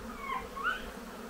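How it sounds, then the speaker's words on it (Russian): Honeybees fly around hives at an apiary in early May after wintering, a faint, steady buzz with a few brief, slightly louder passes drifting close by. "Пчелы наконец-то после зимовки начали летать."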